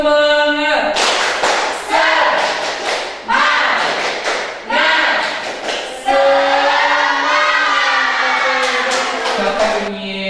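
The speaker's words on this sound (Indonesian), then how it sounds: "Tepuk semangat." Schoolchildren in a classroom perform the 'tepuk semangat' clapping chant, loud rhythmic claps in bursts mixed with shouted, sung voices, the group chanting together close by.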